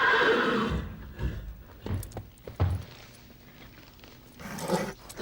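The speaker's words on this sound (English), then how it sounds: "You can't have your horse in here." A horse indoors in a living room, in a film scene, gives a loud neigh and whinny followed by snorts and scattered hoof or tack clatter, close and fairly loud with no talk.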